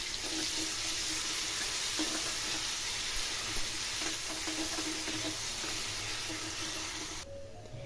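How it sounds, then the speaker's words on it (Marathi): Finely chopped medium onion frying in oil for Kolhapuri misal, a steady broadband sizzle and hiss lasting throughout with faint stirring, no talking, then an abrupt drop near the end. "मी एक मध्यम आकाराचा कांदा बारीक चिरून घेतला आहे. तो सुद्धा चांगला व्यवस्थित तेलामध्ये परतून घ्यायचा."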